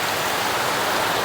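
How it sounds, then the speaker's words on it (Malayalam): Heavy rain falls steadily, a dense, loud broadband hiss of downpour filling the whole moment with no voices over it. "മഴയാ ഫുള്ള്, നല്ല മഴ വെച്ചാൽ നല്ല മഴ."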